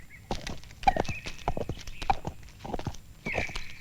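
Horse hooves clip-clop at a steady walking pace as a man rides up in a historical drama set in the Vijayanagar Empire. Crisp, close hoof strikes repeat over a soft background, with a faint whinny near the end.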